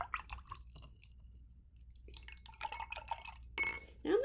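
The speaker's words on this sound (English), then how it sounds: "So I'm going to wash my brush again." A paintbrush swished and rinsed in a water cup while acrylic painting, giving soft splashing and dripping sounds with a few light clinks against the container, close and alone with no talk.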